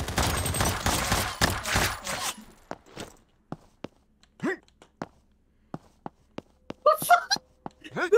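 Dual-wielded guns firing in the shooter game Combat Master: a rapid, dense volley of shots, then sparse sharp clicks and single cracks spaced apart, with brief voices mixed in.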